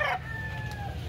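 A rooster at a chicken market in Cebu gives a loud, close crow that starts sharply and draws out in a long sustained tone, with a steady murmur of background noise beneath it.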